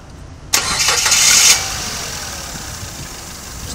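A Mazda Premacy engine, just fitted with a new alternator, cranks for about a second, catches, and settles into a steady idle, loud and close.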